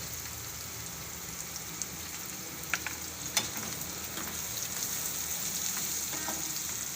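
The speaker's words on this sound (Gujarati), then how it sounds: "હવે આપણે આને બે મિનિટ જેવું સડવા દેવું એમના તેલમાં" Turmeric, coriander-cumin powder and red chilli powder sautéing in oil for a capsicum curd curry, a quiet, even sizzle with a few faint clicks from a utensil.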